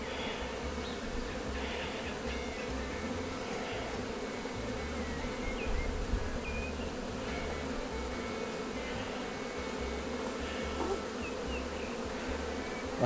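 A swarm of honey bees being caught into a hive box fills the air with a dense, steady buzzing that holds close and loud throughout, with no voices over it.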